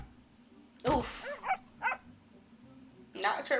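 A dog in an Aphmau MyStreet episode gives a sharp bark followed by a few short whimpering yips, close and loud against a quiet background, with another burst near the end.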